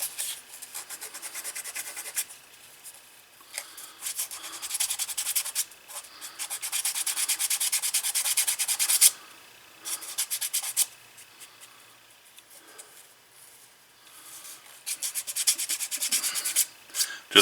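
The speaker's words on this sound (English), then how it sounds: "I'm going to go ahead and sand these edges" Sanding the edges of a leather strap for a 1936 Luger holster, close rasping strokes in repeated bursts with short pauses between passes, no speech.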